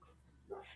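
A dog gives a short whimpering yelp partway through, fairly faint and brief against a quiet indoor room.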